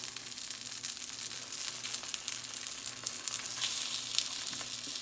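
Thin beef slices for meat jun sizzle in a hot pan, a steady, close crackling fry that keeps up without pause and carries no voices.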